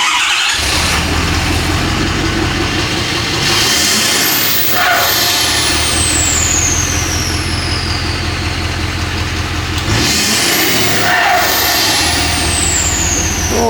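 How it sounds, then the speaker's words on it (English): A Ford F250 pickup with a straight-pipe exhaust rumbles loudly up close, its deep engine note rising in two rev sweeps with a high turbo whistle that climbs and trails off after each one. "some revs and a drive with this new straight pipe"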